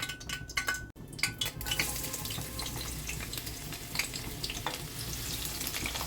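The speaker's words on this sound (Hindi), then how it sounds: "तेल भी हमारा गर्म हो चुका है, तो चलिए हम इसमें डालते हैं सबसे पहले प्याज स्लाइस वाली" Sliced onions dropped into hot oil sizzle and crackle steadily up close, with a few utensil clinks at the start and a soft continuous frying hiss throughout.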